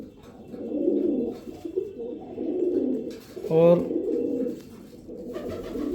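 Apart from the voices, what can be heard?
pigeon cooing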